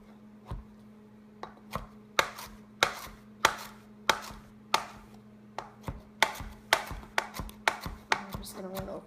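A knife finely chopping onion on a cutting board: a steady run of about twenty crisp, close thumps and taps at an irregular, quickening pace, each with a short woody knock, with no talk.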